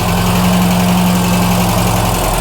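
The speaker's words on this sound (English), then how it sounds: "It's now running about 900 RPM on idle, which is about right" A barn-find Ford Fiesta Mk1 Ghia 1.1 engine idles steadily at around 900 rpm, still slightly choked, with a close, even, low droning hum throughout and no talking.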